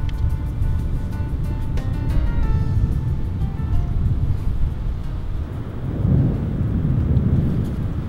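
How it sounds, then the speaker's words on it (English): Distant thunder rolls over a Daniel Boone National Forest campsite as a storm approaches. It is a continuous low rumble mixed with gusting wind noise and swells near the end. "the distant thunder, dropping temperatures, and strengthening winds meant it was just a matter of time before rain started falling"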